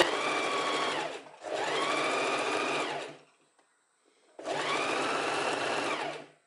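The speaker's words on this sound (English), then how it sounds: "Like the first few stitches, we're just going to normally sew." A sewing machine stitches fabric with elastic being stretched into it, a loud close motor whir with rapid needle rhythm in two long runs, a pause, then another run.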